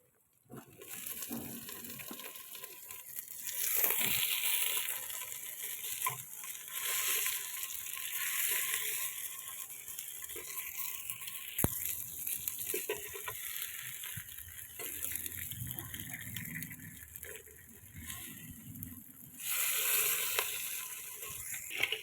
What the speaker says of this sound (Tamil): இப்போ தக்காளி பழம் ஆட் பண்ணிக்கலாம்.